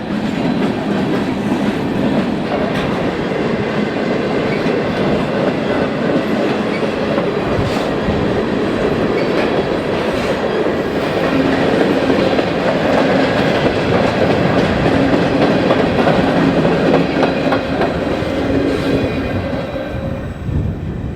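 Canadian National train A490 on the former Elgin, Joliet & Eastern line, led by GCX GE ET44AC Tier 4 locomotive 2029, rolls past close by. It makes a loud, continuous rumble with rhythmic wheel clatter and no voices.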